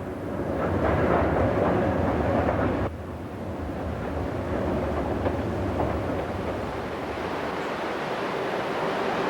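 Le Petit Train Jaune, a narrow-gauge train in Catalonia, runs with a steady, dense rumble and rushing noise. The sound is louder at first, then drops to a slightly quieter, even roar that continues to the end.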